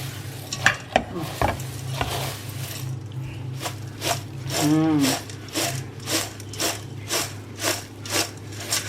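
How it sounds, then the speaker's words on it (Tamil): A Diwali snack mixture is tossed and stirred together by hand, making steady rhythmic scraping strokes about twice a second, close and moderately loud, with a voice briefly audible. "இதை இதில் போட்டுட்டு ஒன்றா கலந்து விட்டுட்டு எடுத்து வச்சிடலாம்"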